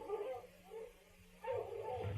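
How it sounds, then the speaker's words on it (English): Dogs on a bear hunt in a radio drama, heard as faint yips and whimpers in two bursts with a brief lull between, slightly distant and muffled. "The dogs, Pa!"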